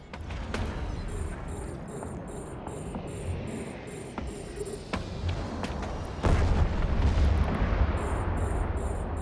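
New ship cannons fire in Eve Online, repeated booming shots with crackling bursts over a steady rumbling space-battle drone, a heavier surge near the end, and a regular beeping alert pattern at times.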